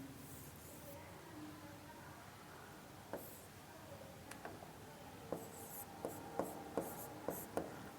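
A pen scratches and taps on paper, soft rubbing strokes at first and then a series of crisp ticks as characters are finished, quiet and close with a faint voice in the background.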